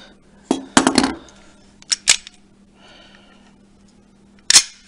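Sharp metallic clicks and clacks from a Glock 17 Gen 2 pistol being handled in a safety check, a few close isolated snaps in quiet surroundings with a low steady hum underneath.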